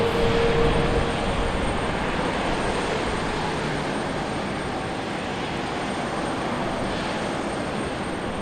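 A Republic Airways jet airliner flying for United at Raleigh-Durham airport gives a steady, moderately loud engine rush that holds evenly without pause, no talk over it.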